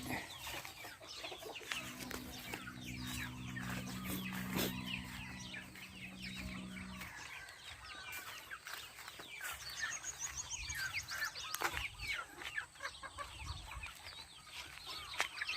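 Free-range chickens cluck and crow in a repeated, fairly close chorus outdoors on a farm, with a low steady hum beneath for a stretch and no talking.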